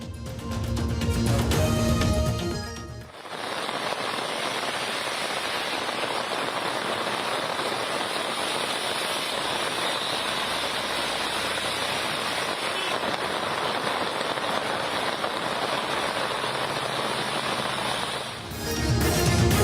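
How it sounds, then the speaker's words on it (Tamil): Heavy, incessant rain in Guwahati, Assam, falls on a road with passing vehicles as a steady, dense hiss for about fifteen seconds, framed by brief louder segments at either end. "அசாம் மாநிலம் குவஹாத்தியில் இடைவிடாத கனமழை"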